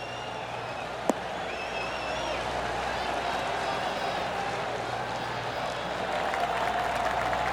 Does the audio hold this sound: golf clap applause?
yes